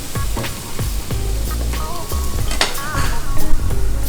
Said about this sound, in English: Now, right after this sears on one side, I will flip it